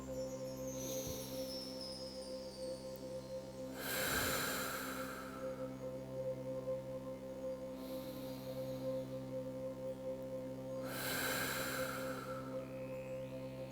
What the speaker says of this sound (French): Prenez 3 grandes respirations